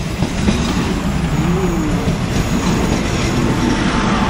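A train rumbles steadily nearby at a station in Thailand, with a continuous rolling roar and a faint metallic squeal rising briefly partway through.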